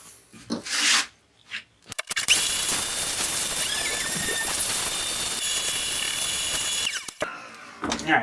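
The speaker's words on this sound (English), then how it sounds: "Hit that with a sander again real fast" Power sander running steadily on a wooden wine caddy for about five seconds, a loud continuous whine with a faint high squeal, preceded and followed by brief bursts of handling noise.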